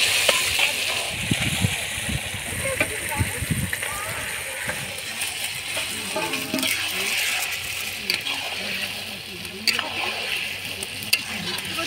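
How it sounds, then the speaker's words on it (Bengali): Chicken pieces go into a pot of spiced masala, with a steady sizzle and repeated scraping and stirring throughout, up close and fairly loud. "এবার মাংসগুলো দিয়ে দিব।"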